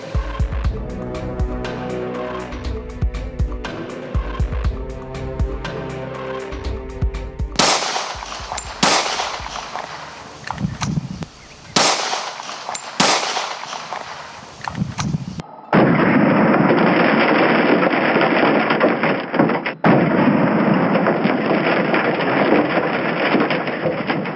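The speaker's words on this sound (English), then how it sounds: "Our first gun is going to be the Glock 40 caliber, shooting 180 grain hollow point." A Glock .40 caliber handgun fires 180 grain hollow points into a car door, with a burst of loud, sharp reports in the first half, then fewer heavy bangs and a harsh, steady rushing noise afterward.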